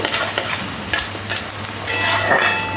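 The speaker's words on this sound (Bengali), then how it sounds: "পেঁয়াজটা একটু হালকা করে ভেজে নিতে হবে" Steady sizzling and crackling of chopped onions lightly frying in a pan, with occasional stirring scrapes, close and moderately loud, no voices.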